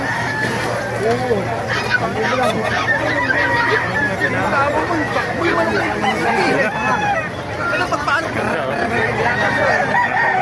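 Many roosters crow over and over amid a dense chorus of clucking chickens and crowd chatter at a poultry market in Bocaue, a loud, busy scene packed with birds.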